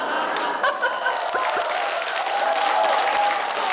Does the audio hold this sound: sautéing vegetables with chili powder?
no